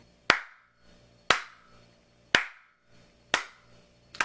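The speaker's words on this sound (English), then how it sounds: "Lootcrate, you deserve a hand clap." Five single hand claps ring out at an even, slow pace, each a sharp, loud smack with a short decaying tail, separated by near silence.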